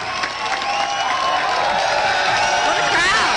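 Crowd cheering at a College of Charleston speaking event featuring Ron Paul, loud sustained applause with whoops and shouts from a packed audience, continuous and close.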